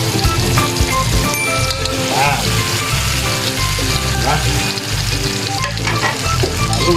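Pampano fish hitting a pan with tomatoes for sarsiado, a steady close sizzle and frying crackle running throughout, with occasional stirring and faint clinks over the top.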